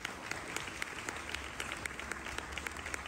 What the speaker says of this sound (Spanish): Vamos a brindarle, por favor, un aplauso a la organización, a estas conferencistas